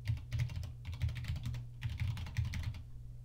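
Login details typed on a computer keyboard come in quick bursts of close keystrokes, separated by brief pauses.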